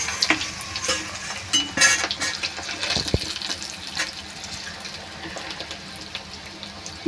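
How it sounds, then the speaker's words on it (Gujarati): Potatoes frying in oil for dum aloo give a close, steady sizzle, broken by clattering stirs and scrapes in the pan, with a few sharper knocks near the middle. "બધી સાઈડથી આપણે એને તળાવવા દઈશું બરાબર"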